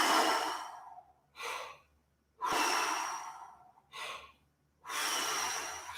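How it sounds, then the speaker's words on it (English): Deep exhaled breaths during a seated vocal warm-up exercise, three long breathy exhales alternating with shorter intakes in a steady rhythm, close and clear with no talking. "Breath arms to the side. Exhale it out."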